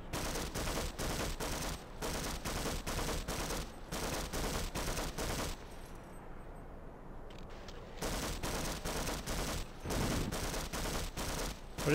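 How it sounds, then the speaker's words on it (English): Gunfire in the Half-Life video game, rapid bursts of automatic shots in repeated volleys, broken by a short lull before firing resumes, loud and close with no speech. "What is he shooting at?"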